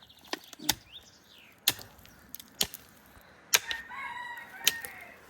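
A chicken near a freshly planted red onion bed in a garden lets out a few sharp, brief calls, with faint clucks and sharp knocking sounds scattered across an otherwise quiet outdoor background.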